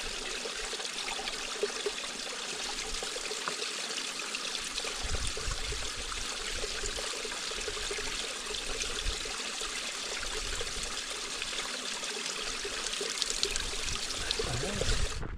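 Fast-flowing water from a mountain stream near Haweswater in England's Lake District rushes and trickles steadily throughout, a continuous close-up babble with no breaks.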